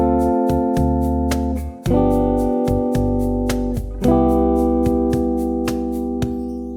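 A guitar plays a basic 1-6-2-5 chord progression close up, each chord strummed and left ringing in a slow, steady sequence of four changes. No voice is present.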